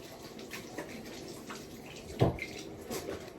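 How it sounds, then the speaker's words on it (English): Water runs from a tap as hands are washed in a home kitchen, a soft steady splash with a brief louder gush midway, close by and with no talking. "Let me wash my hand"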